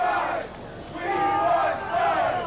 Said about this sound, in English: What are they cheering, Lee?